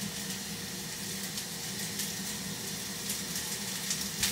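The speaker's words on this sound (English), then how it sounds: "Leave the oil in the pan and fry the onion for about 5 minutes." Onion frying in oil in a pan, a soft, even hiss and crackle that holds steady throughout at moderate distance, with no talking.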